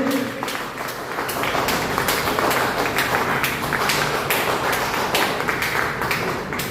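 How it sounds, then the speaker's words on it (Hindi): An indoor audience claps hard and steadily for a speaker on stage. The sharp hand claps are dense and close, and they keep a busy, even patter for several seconds before easing slightly at the end. "ताली नहीं बजे सर ताली बढ़ना चाहिए।"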